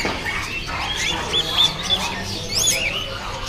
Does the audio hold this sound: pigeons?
yes